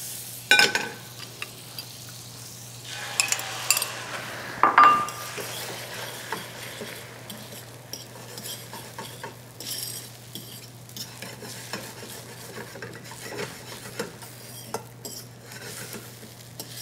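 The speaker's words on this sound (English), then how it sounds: "Let the last of that butter melt." Butter melting in a stainless steel pan gives a soft, steady sizzle, interrupted by occasional scraping and clinks of a utensil stirring against the metal, close and without talking.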